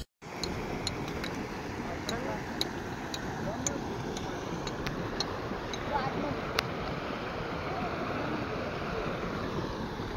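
Floodwater surges over a fully submerged main bridge between two villages in Solapur, a steady, broad roar of rushing water lasting throughout, with a few sharp clicks.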